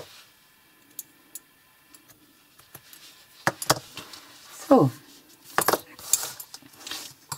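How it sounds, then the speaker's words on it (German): Metal knitting needles click onto the ends of a circular needle cable. A handful of sharp, close clicks and small metallic rattles are scattered over a quiet room. "Hier klicke ich an beide Enden die Nadeln an."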